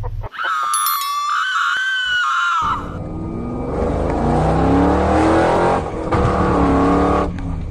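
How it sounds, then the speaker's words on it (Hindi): A car revs and whines loudly at first, then settles into a lower, rougher engine rumble as it slows and pulls over to the side of the road. "सोन बोलता रुको अभी मैं गाड़ी को साइड में लगाता हूँ।"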